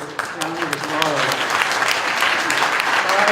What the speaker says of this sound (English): Please give them an extra round of applause.